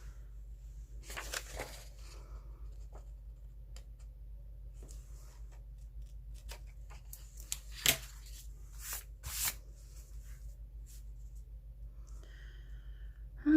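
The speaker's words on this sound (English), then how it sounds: "Get the little scissors for that." Small scissors cutting paper for a paper bag journal, a few quiet snips and paper rustles scattered over a low background hum.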